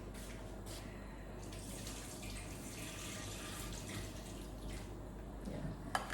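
Water pours out of a cooking pot of lamb biryani being drained into a sink, a steady rushing splash that runs unbroken for several seconds at moderate volume, then ends in a small clatter.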